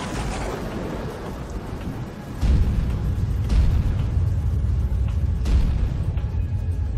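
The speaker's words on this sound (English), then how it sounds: "The sky was thundering and lightning" A thunderstorm with heavy rain, a steady broadband wash of downpour with deep low rumbles of thunder that swell and roll on, joined by a few sharp cracks, loud and close with no voices.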